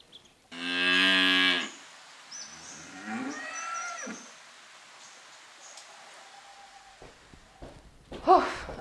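A four-month-old cow on a small free-range homestead lets out one loud, close moo lasting about a second, followed by quieter rustling and faint sounds, then a brief second call near the end.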